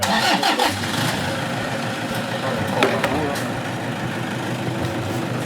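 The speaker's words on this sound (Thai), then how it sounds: "จะสตาร์ทรถไปไหนได้บ้าง" A car engine cranks and catches, then settles into a loud, steady running rumble close by, with people talking under it.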